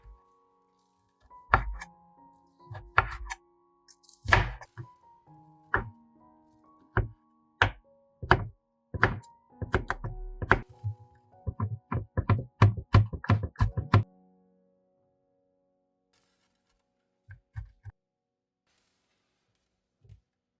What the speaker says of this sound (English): Slice the lemon peels into slices, then chop them finely.